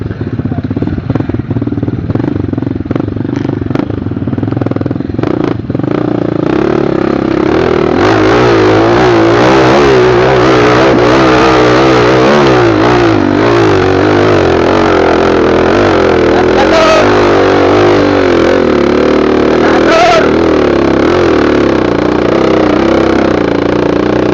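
A motorcycle engine revs hard and close, its roar rising and falling in repeated throttle bursts over a steady loud drone, with clattering in the background.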